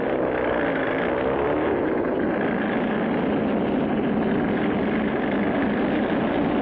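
A cartoon jeep engine and an aircraft taking off blend into one continuous, loud, dense engine drone with a steady rumble throughout and no voices.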